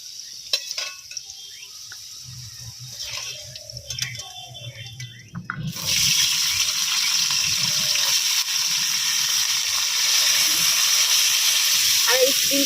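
Potatoes fry lightly in a pan for a home-cooked rice dish, a steady hiss of sizzling oil that bursts in partway through, after quiet clinks and faint sounds, and then stays loud and even.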